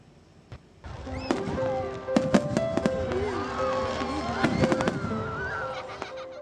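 Fireworks burst during Diwali festival celebrations, with a run of sharp cracks and pops repeating irregularly amid steady background din and voices, moderately loud.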